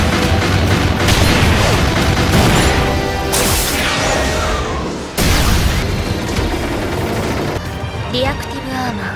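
Reactive armor plating made of explosives detonating in an anime battle between mecha, a loud, dense roar of blasts and crashing debris that sweeps on continuously, with a sharp new burst partway through and voices heard under it.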